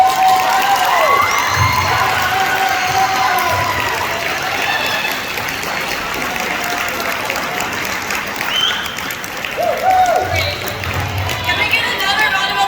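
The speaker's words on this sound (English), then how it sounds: "Can we get another round of applause for Adrian?" A school assembly crowd claps and cheers for Adrian at a Martin Luther King Jr. assembly, loud dense applause with shouts and whoops rising over it, voices calling out near the end.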